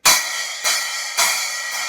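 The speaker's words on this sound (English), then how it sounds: "And the 10-inch stag sensor crash sounds like this" A 10-inch crash cymbal struck three times at an even pace, each bright metallic hit washing out into a long shimmering ring.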